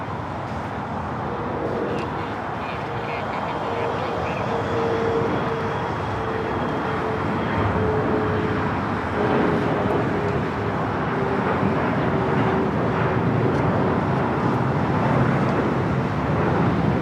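An ITA Airways A330neo widebody airliner rolling down runway 24 at LAX, heard from a distance as a steady broad engine roar with a faint whine, continuous throughout.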